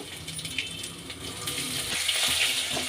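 Finely chopped garlic and ginger frying in hot oil with mustard seeds and cumin for a curd and onion tempering, giving a steady, rushing sizzle that swells slightly louder toward the end.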